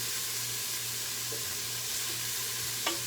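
Onion and garlic sauté in a hot pan, giving a steady close sizzle with a faint low hum beneath and a small stir or clink near the end.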